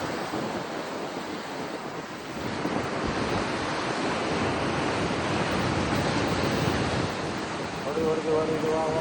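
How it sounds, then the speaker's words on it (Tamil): Rough sea surf crashing continuously onto Pondicherry beach, a loud, steady roar of breaking waves with wind buffeting the microphone and faint voices mixed in. "கடல் ஆக்ரோஷத்துடன் காணப்படுகிறது"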